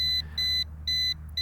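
An Attop W80 GPS drone beeping as its camera tilts, a series of clear, evenly spaced electronic high-pitched beeps, four in quick succession over a low steady hum.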